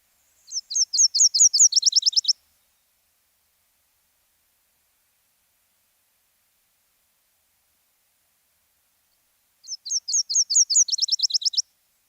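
A warbler sings a two-part song twice: a run of rising, slurred high notes, then a quick trill of rapid chips. Two bursts about eight seconds apart are separated by silence.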